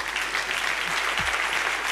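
Steady applause from the audience at the MT180 national final at ULB in honor of a contestant, a continuous clapping roar with a brief low thump partway through.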